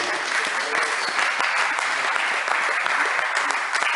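A church congregation at a French-language Bible seminar on worship claps together in acclaim to God, a loud, dense and steady applause that fills the whole stretch with no speech over it.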